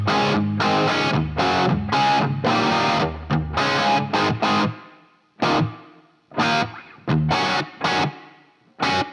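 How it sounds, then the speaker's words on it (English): A distorted electric guitar plays through a Quad Cortex modeler with a room reverb, in a quiet home rig. It starts with sustained heavy chords, then moves to short separated stabs whose reverb tails fade into near silence between hits. "right now, all that's happening is a room reverb"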